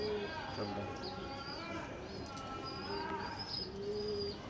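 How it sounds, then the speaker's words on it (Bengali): A green-necked pigeon with a black tail coos softly and repeatedly at close range while someone talks over the birds. "এই কবুতরই দেখে দিচ্ছি যে এটা হলো সবুজ গলা কবুতর।"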